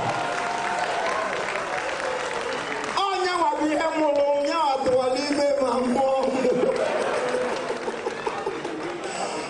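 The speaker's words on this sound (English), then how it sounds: "Please, a round of applause for my father" An audience in a church claps in a dense, continuous wash of applause, with a voice speaking and calling out over the clapping.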